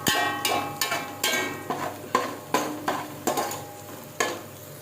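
Onions frying in a pan for macaroni, stirred with a utensil that scrapes and knocks about a dozen times in an uneven rhythm over a steady background sizzle, close and fairly loud.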